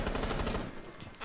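Rapid gunfire from a shooter video game, a steady burst of automatic shots that trails off after the first half second, with faint game noise underneath.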